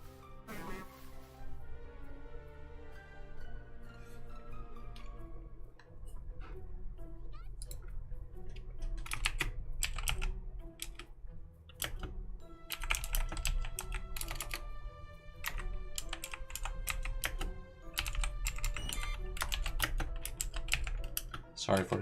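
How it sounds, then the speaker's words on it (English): Quick, uneven clicking of a computer keyboard being typed on continues throughout, close and fairly quiet, with a voice talking over it at times. "Sorry for the typing noises."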